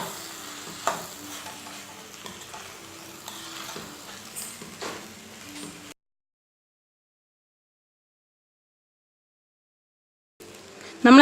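Vegetable fried rice with cooked rice is mixed and stirred in a pan, close spoon scrapes and knocks over a light sizzle for about six seconds before dropping into silence, then a brief burst of sound at the end.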